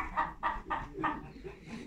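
Hens cluck in a coop in a quick series of about six close, moderately loud calls, steady and alone, with no voices over them.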